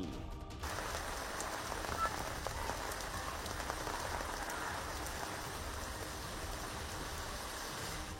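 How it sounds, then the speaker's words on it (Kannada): Heavy afternoon rain in Bengaluru pours steadily in a dense, even hiss of drops on surfaces, loud and unbroken throughout. "ಮಧ್ಯಾಹ್ನ ಆಗ್ತಿದ್ದಂತೆ ಅಬ್ಬರಿಸಿದ ಮಳೆರಾಯ"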